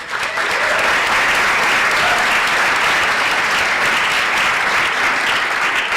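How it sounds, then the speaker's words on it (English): Sustained audience applause for sponsors at an organization's annual state-of-the-organization meeting, a steady, dense roar of many hands clapping throughout, loud and even with no pauses. "Can we give them a round of applause?"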